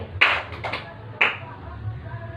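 Classroom clapping pattern from a primary school lesson, heard as a few sharp claps in two bursts, one quick cluster then a single clap a second later, over faint room murmur.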